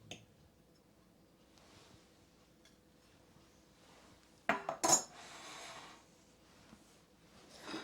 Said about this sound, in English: So I'm going to cut a slice of this, put it on the plate, and fix it up.